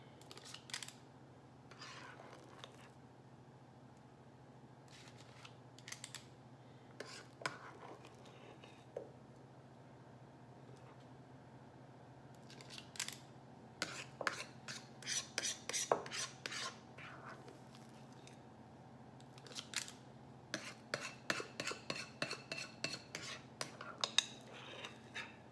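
Keto lemon poppyseed muffin batter scooped with a 2-ounce ice cream scoop into a lined muffin tin: quiet scraping and clicking, sparse at first, then clustered metallic scrapes and taps toward the end, close and faint.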